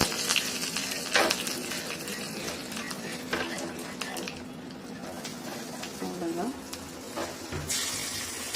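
Spices for a tomato pickle fry in hot oil with curry leaves nearby, giving a steady soft sizzle with a few clinks and stirring sounds, and a voice speaks faintly at times.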